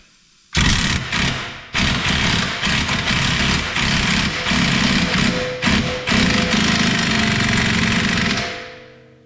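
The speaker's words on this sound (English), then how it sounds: "I'm going to get it as close as I think I can with the impact and then come back with the torque wrench" Impact wrench hammers on a wheel bearing nut of a 1993 Lincoln Mark VIII, loud and close in repeated bursts with short pauses, then trailing off.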